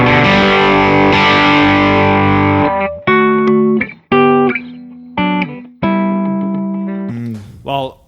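Electric guitar played through an overdrive pedal into an amp pushed into grit: a sustained distorted chord rings out, then a run of loud, punchy chord stabs, each decaying before the next.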